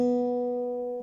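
A single open second-string note plucked on an acoustic guitar, played as part of a fingerstyle melody, rings out clearly and alone, sustaining steadily before being damped at the end.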